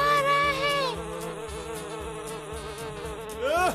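A cartoon fly buzzes loudly in a Hindi children's animated show: a continuous, close, droning hum with a wavering pitch, with brief squeaky voice-like tones at the start and end.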